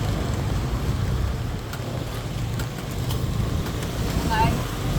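Strong wind buffets a microphone beside a roadside with passing traffic, a steady low broadband roar with gusty swells that continues throughout, loud and close.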